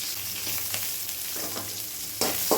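Onions and mustard seeds fry in hot oil, a steady close sizzle and crackle with a few brief stirring scrapes and a louder burst of spattering near the end.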